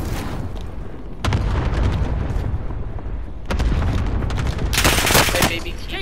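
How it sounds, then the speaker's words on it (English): Molotov cocktail thrown and exploding in a video game firefight, dense booms and gunfire bursts crowding the scene loudly with players talking over the chaos. "Throwing Molotov."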